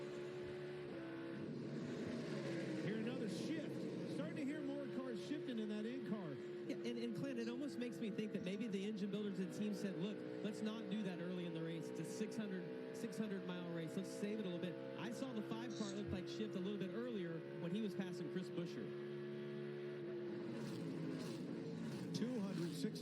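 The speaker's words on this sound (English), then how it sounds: "Starting to hear more cars shifting in that in car." In-car sound from a NASCAR race car at night during the Coca-Cola 600, the engine droning and rising and falling through repeated gear shifts, with a commentator talking over it throughout.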